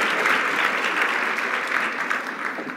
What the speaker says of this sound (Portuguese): Uma salva de palmas para o nosso empreendedor.